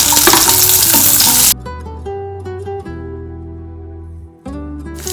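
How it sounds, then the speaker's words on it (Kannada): Cumin, spices, ginger and garlic fry in a pan for a chicken dish, a loud bright sizzle that suddenly drops to a softer hiss with stirring, then surges loud again near the end; no one talks. "ಫ್ರೈ ಆಗ್ತಾ ಇದೆ."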